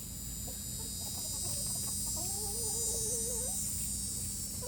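Jersey Giant roosters cluck softly against a steady background hum, with a few short rising calls and warbling notes close by.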